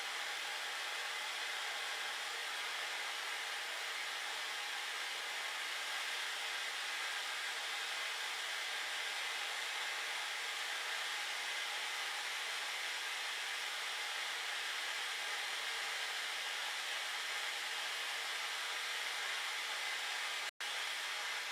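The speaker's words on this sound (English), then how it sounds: "I heat the hook knife by holding it in front of this torch flame." A torch flame roars steadily and loudly as a hook knife is heated in front of it, a continuous broadband hiss with no talk, ending in a brief click.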